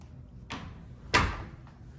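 A heavy solid 8-foot interior door swings and closes, a lighter knock followed by a louder, fuller thud about half a second later, then fading quiet.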